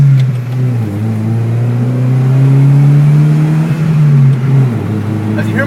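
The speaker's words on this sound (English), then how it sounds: "As you hear my turbo going off" A turbocharged car engine pulls hard under acceleration with a steady rising drone and whirring spool, loud and close throughout, easing off near the end.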